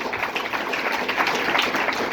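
Dense, steady applause from an audience at a DXN product seminar, a continuous wash of many hands clapping with no voices on top.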